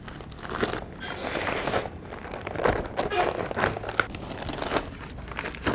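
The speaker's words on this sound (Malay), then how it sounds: "Kelebihan plastik yang kat tepi ni kita akan masukkan di bawah frame" Plastic sheeting is pushed and tucked under the thin metal frame of a mini aquaponics and hydroponics greenhouse, giving close continuous crinkling and rustling with scattered sharper crackles, while a voice occasionally speaks.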